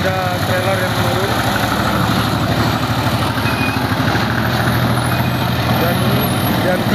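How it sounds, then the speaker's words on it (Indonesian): A trailer truck rolls downhill, its engine a steady low rumbling drone that holds at an even level throughout, with a voice heard talking over it. "Dan ini ada trailer yang menurun."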